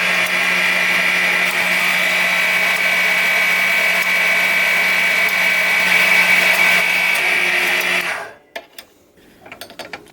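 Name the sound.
metal bandsaw cutting bottle cutter pieces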